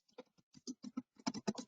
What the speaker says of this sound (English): I'm just typing in shortcut